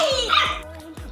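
A dog barks and yips in several short, close, fairly loud bursts around children at home, with no talking.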